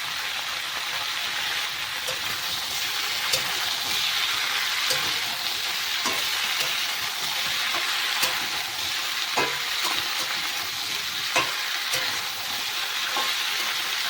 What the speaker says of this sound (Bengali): সবজিটা অনেকটা ভাজা হয়ে গেছে।